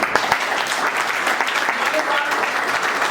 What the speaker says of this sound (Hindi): मैं चाहूंगा कि अपने इस नेवी की जवान के लिए जोरदार तालियां।